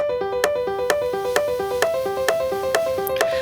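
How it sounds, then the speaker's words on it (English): Electronic music production example in a straight binary rhythm of even four-by-four notes, a bright synth pluck pattern stepping steadily with regular accented hits, heard alone at moderate level. "binary rhythms are just like 4x4 notes,"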